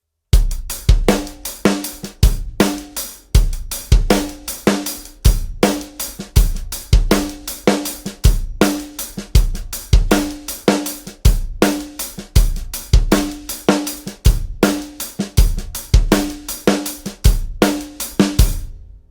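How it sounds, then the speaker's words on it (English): A drum kit loops a steady groove of kick, snare and syncopated hi-hat, crisp, close and loud, repeating the same bar pattern evenly for about twenty seconds with no talk. "So our first hi-hat variation with this second groove sounds like this."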